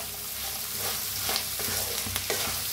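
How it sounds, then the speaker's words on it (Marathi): Potatoes for a South Indian style potato bhaji sizzle steadily while frying in a pan, with a few soft scrapes and clinks of stirring rising above the continuous hiss. "आता त्याच्यातच टाकूया बटाटो. बटाटोला बी मिक्स करून घेऊया."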